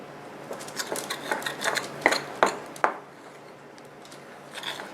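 Faux ice cream mixture being stirred in a bowl: soft repeated scraping and squishy clicks of a utensil against the bowl, a few sharper taps, close and quiet, fading toward the end.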